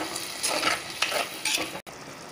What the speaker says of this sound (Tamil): தக்காளியை நல்லா பச்சை வாசனை போற அளவுக்கு நல்லா வதக்கிக்கங்க